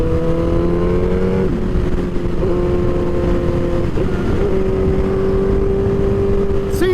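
A Suzuki GSX-R1000 liter bike ridden on the street, its engine droning steadily close by with pitch shifts as it changes gears and a rising rev near the end.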